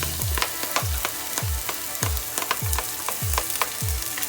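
Garlic added to frying onion sizzles loudly in a pan, a steady crackling hiss with regular thumping stirring strokes repeating about twice a second.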